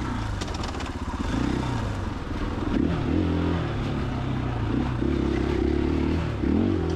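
A 2021 KTM EXC-F 500 dual-sport motorcycle rides a wet off-road trail in the rain, its engine droning steadily with shifting pitch and some clatter, loud and close throughout with no talk.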